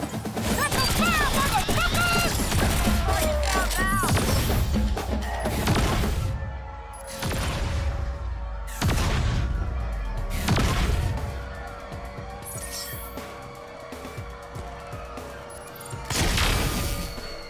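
Heavy gunfire and explosions in the video game Agents of Mayhem come in repeated loud bursts of rapid shots and crashing booms, with game character voices calling out between volleys.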